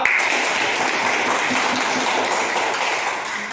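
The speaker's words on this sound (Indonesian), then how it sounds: "Sekali lagi kasih tepuk tangan untuk kelompok 2." Classroom audience applauding a student group during a teaching-practice session at a university, a dense, even wash of clapping that holds steady and fades slightly at the end.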